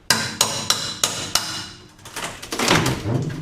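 A hammer drives a pry bar under the flooring of a school bus during a skoolie conversion, landing five evenly spaced sharp metallic whacks, followed by scraping and creaking as the floor lifts.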